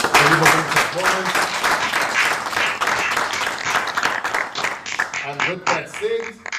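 A seminar audience on conservation in the built environment applauds a moving performance, with a dense, steady wash of clapping for several seconds while a voice talks over it.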